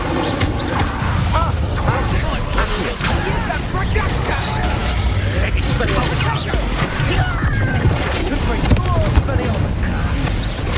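Incendio fire spell bursts amid chaotic combat in Hogwarts Legacy, with dense crashing and whooshing effects layered over a loud, continuous battle din and shouted voices throughout.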